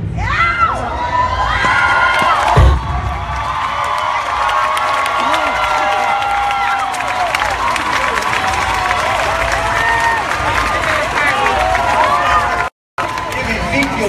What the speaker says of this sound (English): Give Ezekiel another round of applause.